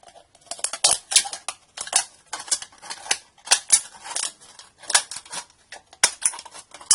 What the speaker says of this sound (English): and then you just finish off with scissors.